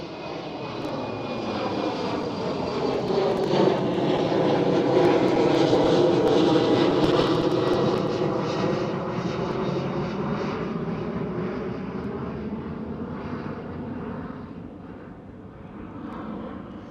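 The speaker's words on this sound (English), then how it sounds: "It looked like it was going very slow, the German Airways E190" A German Airways Embraer E190 jet departs Amsterdam Schiphol, a loud sustained engine roar that swells to a peak midway and then slowly fades as it climbs away, heard alone from a distance.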